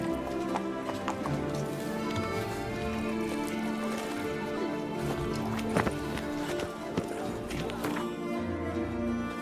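Roach the horse gallops in The Witcher 3 with a continuous patter of hoofbeats mixed under game music and ambient sound, steady and moderately loud throughout.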